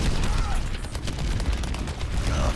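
Turret gunfire during a match on the Volskaya Industries map in Overwatch, a dense, continuous rattle of rapid shots mixed with other game noise for a couple of seconds.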